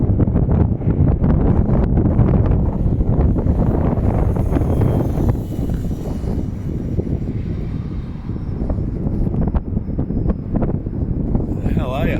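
Strong gusty wind roars across the microphone at an RC plane flying field, a loud continuous rumble that swells and eases over the whole stretch.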